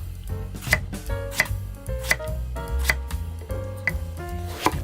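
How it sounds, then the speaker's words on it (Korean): A knife cuts a vegetable into round slices about 1 cm thick, giving a steady series of sharp chops against a board roughly every second, with tonal music playing underneath. "이렇게 잘라서 동글동글하게 썰어주세요"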